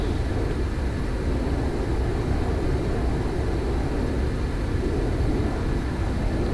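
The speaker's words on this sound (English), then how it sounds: "and then we need to lift off. So full throttle, and here we go." An A-143 Buzzard jet in the Arma 3 video game runs at full throttle for takeoff, a steady broad engine roar with constant rumble and hiss throughout.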